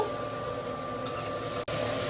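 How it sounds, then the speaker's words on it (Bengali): Ridge gourd and onion fry in a pan with a constant hissing sizzle and faint scraping of stirring, steady throughout apart from a brief dropout near the end. "এই যে ঝিঙ্গাটা দিয়ে দিচ্ছি ঝিঙ্গাটা একটু ভাজা হইলে"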